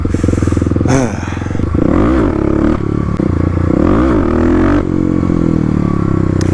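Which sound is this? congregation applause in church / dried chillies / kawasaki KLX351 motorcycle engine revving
kawasaki KLX351 motorcycle engine revving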